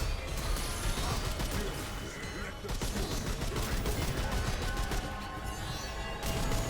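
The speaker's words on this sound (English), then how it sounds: "These things are shooting to the sides." Enemy gunfire in the shooter game Remnant 2 rattles in dense, loud bursts, with overlapping shots and impacts. The barrage runs almost without a break, and a few short pauses between volleys mark the only gaps.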